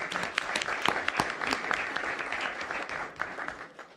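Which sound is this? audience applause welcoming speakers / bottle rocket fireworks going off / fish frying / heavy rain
audience applause welcoming speakers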